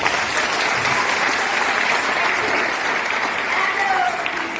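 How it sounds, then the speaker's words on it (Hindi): Loud, sustained applause from a crowd, steady clapping throughout with no pauses. "उनके लिए जोरदार ताली"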